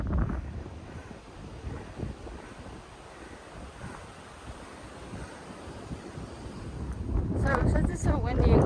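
Strong wind buffets the microphone on an Appalachian Trail mountaintop, a continuous low rumbling roar that swells louder toward the end, with someone speaking faintly at the close.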